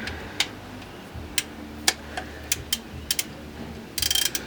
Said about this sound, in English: Let me just stick a regular ratchet in it. It's just a 3/8 ratchet.